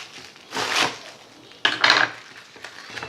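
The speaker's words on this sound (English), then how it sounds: "We'll grab out a 10-inch chef's knife and we're going to cut the cabbage in half" A 10-inch chef's knife cuts a whole cabbage in half on a board, giving two short bursts of crunching and slicing with a knock of the blade against the surface, close and fairly clear.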